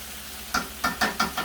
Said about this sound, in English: we're going to do 2 tablespoons of butter on each steak. This is to melt it.